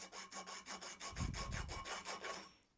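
Sandpaper rubs rhythmically over copper pipe ahead of soldering, about a dozen quick scraping strokes close to the ear, fading out at the end.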